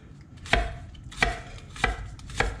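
A kitchen knife chops through a peeled vegetable on a cutting board, four crisp, evenly spaced thuds close by, with no talk.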